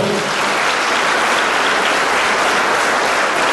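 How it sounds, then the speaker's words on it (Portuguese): A church congregation breaks into loud, sustained applause, a dense, even roar of many hands clapping close by, with no talking over it. "Dê um forte aplauso ao Senhor."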